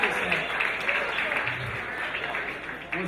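A crowd at a standup comedy event claps steadily throughout, a fairly loud and continuous patter of many hands with some voices mixed in.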